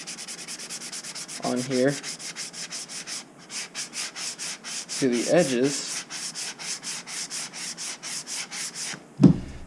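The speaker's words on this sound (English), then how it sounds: "start sanding them down smooth" 220-grit sandpaper rubs along the raised edges of a model rocket part in steady back-and-forth strokes, close and fairly loud, with a brief voice over the scraping.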